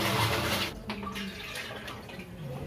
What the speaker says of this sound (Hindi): और यहाँ मम्मी पानी भर रही है